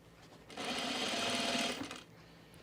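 A sewing machine runs in one steady burst of about a second and a half, stitching half-inch side seams on a blazer lined with weft interfacing, close and clear against a quiet room.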